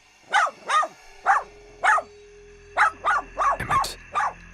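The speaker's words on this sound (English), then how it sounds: "began to bark without a stop" A dog at a wilderness campsite barks repeatedly at night, with eight or nine sharp barks in an irregular rhythm, moderately close and alone against a faint background hum.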